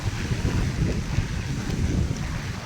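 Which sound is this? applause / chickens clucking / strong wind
strong wind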